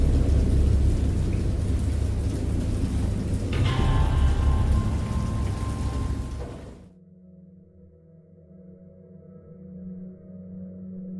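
Heavy rain pouring with a deep rumble of thunder in the video game Dagon, loud and close, then abruptly cutting to a much quieter low hum near the end.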